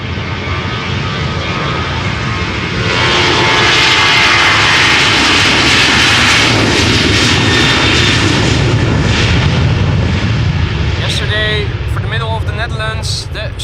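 Corendon Boeing 737-800 jet taking off at Amsterdam Schiphol, its engine roar building to a loud, steady rumble that sustains throughout, with a voice speaking briefly near the end over the noise.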